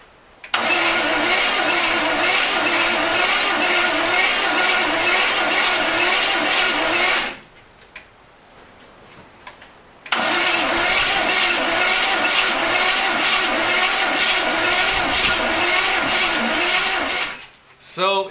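A 1970 custom wide-body Corvette engine, left open to winter weather, cranks over slowly with a steady rhythmic churn in two long close bursts separated by a few seconds of quiet, without firing.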